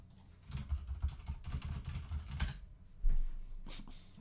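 Keys clatter on a computer keyboard in irregular bursts and short runs of taps, fairly close and moderately loud, with no voice over them.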